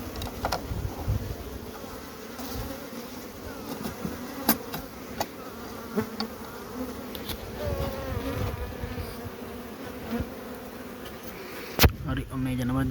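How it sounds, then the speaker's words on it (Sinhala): Honey bees buzz steadily around a hive colony while colonies are being split and boxed, a dense continuous drone at close range with occasional louder passes near the microphone. "තාමත් මැස්සෝ යනවා මේ ජනපදයට"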